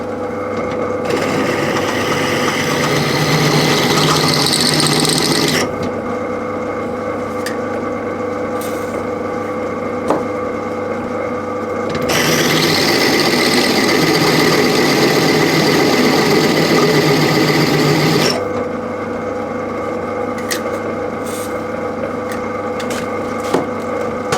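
Power drill running steadily while boring into a handle workpiece with a lubricated bit, a loud sustained whine in two long bursts separated by quieter running.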